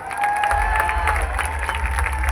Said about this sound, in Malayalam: ഈ ബ്യൂട്ടിഫുൾ ആയിട്ടുള്ള ട്രീ തന്ന കൊച്ചിൻ നൈറ്റ്സിന് ഒരു അടിപൊളി കൈയടി കൊടുക്കാം